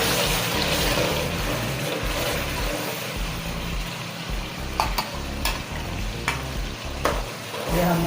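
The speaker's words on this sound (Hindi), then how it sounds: "थोड़ा सा ऑयल गरम करते हैं। हमारा ऑयल गरम हो चुका है। अब हम इसमें डालते हैं प्याज।" Chopped onions frying in hot oil for chicken karahi, a dense continuous sizzle close up, with occasional sharp ticks of stirring against the pan.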